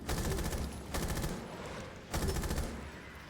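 Automatic weapon fire in the video game Rainbow Six: Extraction: three sustained, dense bursts of rapid shots, moderately loud and close, separated by brief pauses, with no talk.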